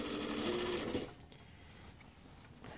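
A sewing machine stitching a jacket hem, a fast rhythmic whir of needle strokes for about a second before dropping to a quieter idle hum, heard close.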